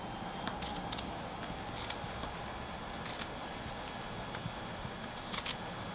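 Scissors snip sewing thread and fabric while finishing a cap sleeve, a few faint, sharp, close-up clicks spread over a quiet room background.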